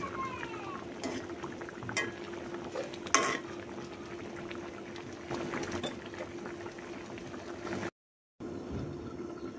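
Raw hilsa fish curry stirred in a cooking pot, a steady bubbling simmer with a few sharp utensil scrapes and knocks against the pot, close and continuous before a brief dropout near the end.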